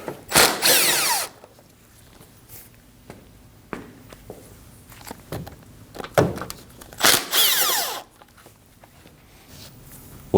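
Bursts of a power drill or impact driver spinning off two 10mm bolts at the top of an AC condenser on a 2016-2022 Honda Pilot 3.5L, several short loud whirs separated by quiet gaps with light handling clatter.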